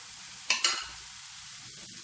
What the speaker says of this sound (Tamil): இப்போ சின்ன சின்ன ஊத்தப்பம் மாதிரி ஊற்றிக்கலாம்.